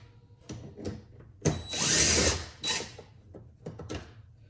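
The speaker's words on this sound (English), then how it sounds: "Let's switch to the impactor now, just to speed up the process." An impact driver rattles off 10mm nuts at the front of a Tesla Model 3, bursts of whirring hammering with one long sustained run in the middle and shorter clicks and handling noises around it.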